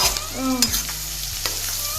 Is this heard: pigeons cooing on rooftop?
no